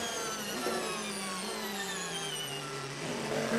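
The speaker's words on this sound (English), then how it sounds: "You can hear the whine of that Kurz just getting all that energy that he's going to then be able to put back down to the ground" A Le Mans prototype race car braking into the Ford chicane at Le Mans during practice gives off a high electric whine that slides downward over a steady, loud engine and track roar.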